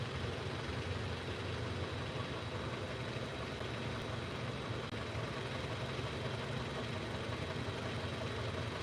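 A car engine idling during a LIQUI MOLLY engine flush, a steady low rumbling hum that stays even and unchanging from start to finish, with no voices over it.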